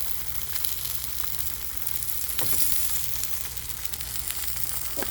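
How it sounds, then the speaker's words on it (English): Pea pods, shallots and green onion sizzling on a Blackstone griddle for a chicken pineapple stir fry, a dense, steady hiss with small pops and a brief stirring scrape, close and loud. "I'm going to throw down a little bit of shallots and green onion."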